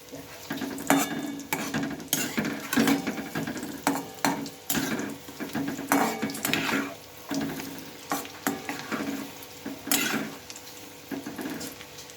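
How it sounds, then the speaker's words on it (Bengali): Prawns frying crisp in a pan of hot oil for a Bengali prawn recipe, a continuous sizzle broken by repeated scraping and stirring strokes from a spatula, close up, with no voices. "তারপরে পাল্টে এগুলো লাল লাল করে মুচমুচে করে ভেজে নিতে হবে"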